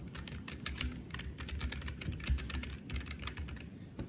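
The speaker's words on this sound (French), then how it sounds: "c'est surtout un clavier mécanique. Ça veut dire que quand on tape dessus" Rapid, continuous clacking of keys on a mechanical keyboard, close up and steady, with no voices.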